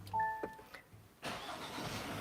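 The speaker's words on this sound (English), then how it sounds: "Can you start the car?" A 2024 Kia Sorento X-Line Limited chimes briefly, then its engine starts with a quick crank and catches into a steady, quiet idle heard up close.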